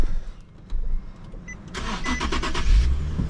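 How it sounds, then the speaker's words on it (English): A 2017 Infiniti QX70's 3.7 liter engine cranks and starts: starter whirring bursts, then the engine catches and settles into a low rumbling idle close by. "Vroom, starts right up."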